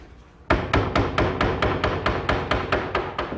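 Hammer blows drive a dowel pin into a joint of an antique wooden Nantucket settle, with about a dozen sharp, evenly spaced strikes, close and loud, and no voices.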